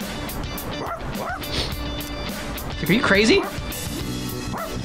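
A cartoonish dog in Persona 3 Reload gives short yips and a whimpering bark, mixed with game music and sounds while a person talks over it.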